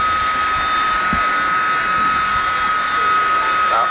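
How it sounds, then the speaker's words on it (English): Tornado jet aircraft at the Farnborough Air Show, 1990, making a steady, loud, continuous engine roar with a high whine that holds for the whole stretch, heard outdoors at a distance. "Tornado comes back into land"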